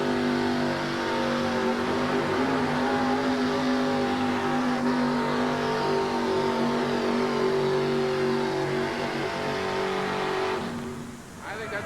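A 4WD pulling truck at a 1988 USHRA truck pull in Albany, Georgia roars at full throttle, its engine holding a loud, sustained, droning rev for about ten seconds before easing off at the end.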